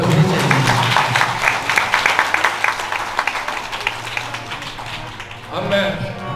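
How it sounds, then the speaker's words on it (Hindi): Loud, sustained clapping from an audience applauding children at a Hindu children's Sanatan program, dense and continuous with voices mixed in, swelling again near the end. "एक बार जोर से बच्चों के लिए तालियां बजनी चाहिए"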